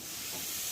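Aloo posto, potatoes in poppy seed paste, cooking down in a pan with a little added water, giving a steady, close, even sizzling hiss with no talking.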